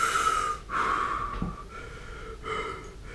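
A man breathing deliberately to calm himself, several slow, close, loud exhales and inhales with a slight wheezy, raspy edge, alone without speech.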